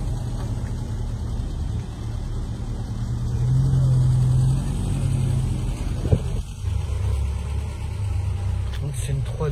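Austin-Healey 3000 classic car with a 3-litre engine running outdoors at a town square, a low steady rumble with a brief rev midway, heard under ongoing conversation.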